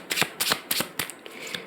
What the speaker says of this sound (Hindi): ओके, एक लेयर ऑफ कार्ड्स और निकालेंगे ताकि और क्लैरिटी मिल जाए।